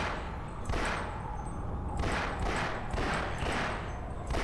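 Gunfire from the video game Half-Life, a run of loud shots and booming thuds in steady succession at close range, with no talk over it.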